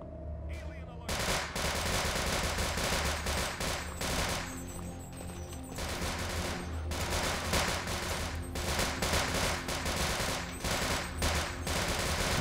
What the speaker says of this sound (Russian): Ой, стреляет.